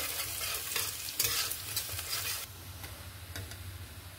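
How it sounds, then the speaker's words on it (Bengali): Chopped garlic frying to brown for a sour raw-mango dal, a soft even sizzle with a few stirring scrapes early on, quiet and close, no voices. "রসুনটাকে আমি বাদামি কালার করে ভেজে নিব।"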